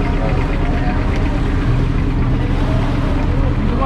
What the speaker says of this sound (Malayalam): വലിയ ബോട്ടാണ്, ഏറ്റവും വലിയ ബോട്ട് ഇതാണ്